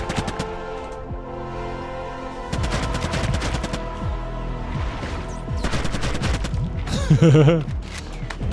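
Rapid gunfire bursts while spraying down enemies in the fast arena shooter Blood Vial, clustered automatic volleys with booming impacts, loud and near, pausing briefly before resuming.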